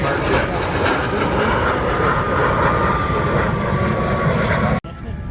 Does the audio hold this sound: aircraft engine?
yes